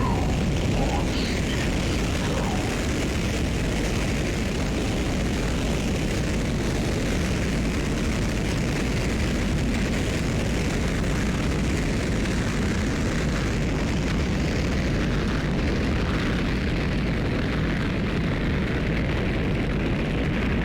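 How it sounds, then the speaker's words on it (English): A rocket launch in the Half-Life video game, a continuous loud roaring rumble that holds steady and powerful for about twenty seconds, thinning slightly toward the end. "you get to see the rocket blast off a lot more easily"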